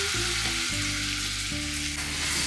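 Chopped onion with bay leaf, star anise, black cardamom and black peppercorns frying in hot oil for a mutton curry, a steady close sizzle running the whole time beneath low tonal hum, no voices.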